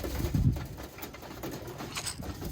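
Birmingham Roller pigeons coo softly in a breeding loft in California, low gentle calls with some light rustling and patter nearby.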